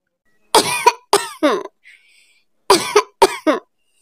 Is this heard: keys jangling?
no